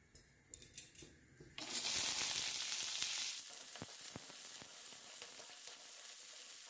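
Vegetables and peas hit a hot pan for fried rice, setting off a sudden loud sizzle that spikes then settles into steady frying, with scattered clicks and taps of stirring, following a few quiet knocks.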